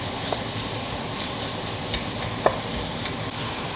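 Pork belly seasoned with five spice powder frying until golden and charred, a loud, continuous close sizzle with a hissing wash and a few sharp pops, with no voice.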